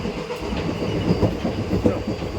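A train from Bangaon to New Jalpaiguri rumbles steadily along the rails with a continuous low roar and faint rhythmic clatter of wheels, heard from inside a compartment.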